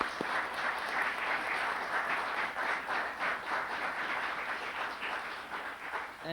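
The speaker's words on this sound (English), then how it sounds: "I'd really like you to give them a round of applause" An audience at a community awards ceremony applauds in a steady, dense wash of clapping that holds evenly throughout, moderately distant and without speech.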